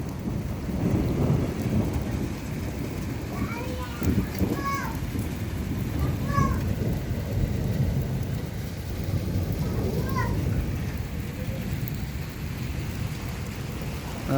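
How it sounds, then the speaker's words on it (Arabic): Heavy, steady rain with thunder over a village and its mosque during a downpour, a dense continuous wash with low rumbling throughout, faint voice-like tones now and then. "والأمطار لا زالت تهطل وبغزارة."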